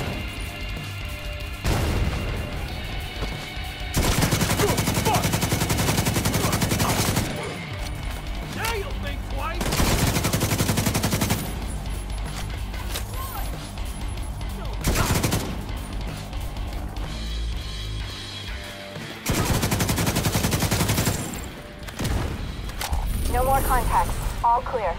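LMG fire in The Division 2 comes in several long, loud sustained bursts of suppressing fire, separated by quieter stretches of game ambience and voices.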